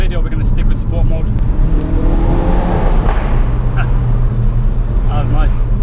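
A 2017 Ford Focus RS hot hatch driving in sport mode, its engine humming and climbing in pitch under a voice speaking over it, close and steady.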